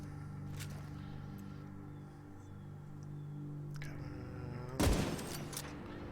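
Gunfire in the shooter video game The Division 2, faint distant shots early on, then one sharp, loud burst near the end over a low steady game hum.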